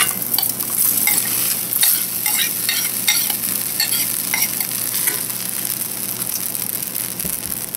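Rice frying and being stirred in a pan for turmeric rice, a steady close sizzle with scraping and stirring strokes running the whole time, no voices.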